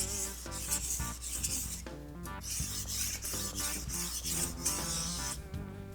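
A dull knife is drawn across a sharpening stone with steady back-and-forth rasping strokes, close and continuous, over a sustained tonal background.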